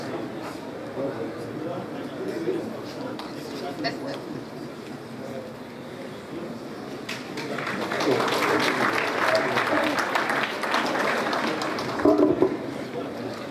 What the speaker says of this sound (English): Please, another round of applause for the MNI